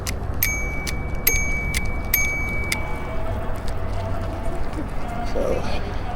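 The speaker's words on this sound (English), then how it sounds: "People like it when you use the bell." A bicycle bell rings in several quick metallic strikes during a cloudy, drizzly ride on a river trail, with steady wind and rolling noise and some talk underneath.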